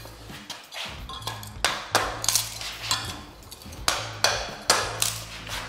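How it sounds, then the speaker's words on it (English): A hammer prying and popping up old flooring in a carpeted room, with a series of sharp metallic knocks and thuds in an irregular rhythm, close and fairly loud, with no speech. "I still prefer that hammer, actually."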